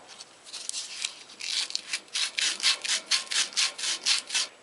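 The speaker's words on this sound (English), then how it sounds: "we'll sand off the rest of the solder with plumber's sandpaper" Plumber's sandpaper rubbing leftover solder off a copper pipe, a run of rhythmic back-and-forth rasping strokes that speed into an even pulse, close and moderately quiet with no voices.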